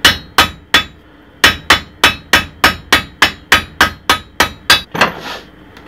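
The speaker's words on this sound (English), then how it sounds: "We're going to strike this with a decent amount of force to bend the metal." A hammer strikes a metal axe head about fourteen times while fitting a new haft, sharp ringing blows close by: three quick hits, a short pause, then a steady run of strikes.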